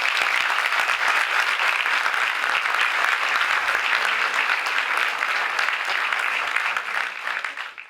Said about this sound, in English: A big round of applause to him, please.